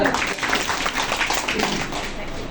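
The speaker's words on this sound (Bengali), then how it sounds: "ওনার জন্য একটা করতালি হোক।" Applause for a woman receiving an insurance claim payout at a life insurance company meeting in Bangladesh, a short burst of scattered hand clapping from a small crowd, with voices talking over it.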